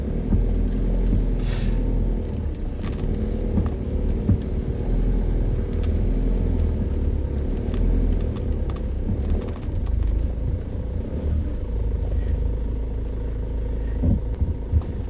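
A hearse moving slowly onto a home driveway produces a steady, close engine rumble and low hum throughout, with scattered crunches and clicks from the ground and no voices.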